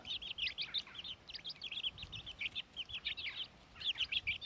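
Hens in a coop give a quick run of soft, high clucks and chirps, faint and fairly close, with no voices over them.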